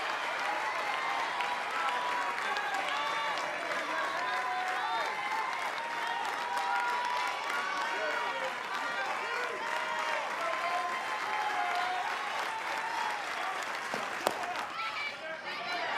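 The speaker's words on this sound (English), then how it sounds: "Crowd to its feet." A college softball crowd at a UCF vs Florida State game rises to its feet, cheering and applauding in a loud, sustained roar that holds steady throughout, with announcer talk mixed in underneath.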